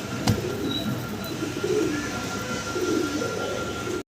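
Large Mundian fancy pigeons in a loft give soft, low cooing calls in a few repeated bursts, close and moderately loud over faint background noise, with no one talking.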